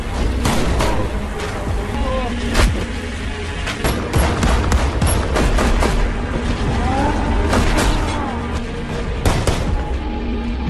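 A film shootout produces rapid, repeated gunshots and booming bursts over dense, loud action background noise throughout.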